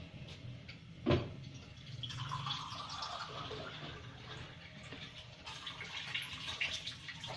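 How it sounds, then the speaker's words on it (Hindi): Two cups of water are poured into a pan while making Kashmiri chai in a home kitchen: a faint, steady pouring hiss with a sharp knock near the start and quiet rustling afterward. "उसमें मैं 2 कप पानी डालूंगी"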